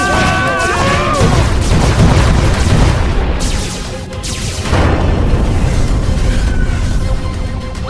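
Cartoon spaceship attack with dense, continuous blaster fire and booming explosions, loud and chaotic, with a brief dip midway before the barrage resumes.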